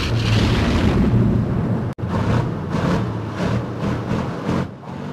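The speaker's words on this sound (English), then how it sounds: "We got our own ammunition. It's filled with paint. When we fire it, it makes pretty pictures." Firing paint-filled ammunition, a loud, broad rumbling blast with a sharp cut partway through, followed by rolling, pulsing booms that gradually fade.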